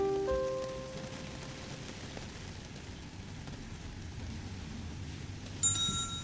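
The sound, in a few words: rain falling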